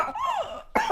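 A person imitates the spasmodic cough of whooping cough, a rising and falling crowing whoop of breath followed by a sharp, close cough burst, all within a second.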